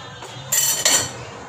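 Metal utensil clinking against a cooking pot as fish is stirred, two short scraping clinks over a quiet kitchen background.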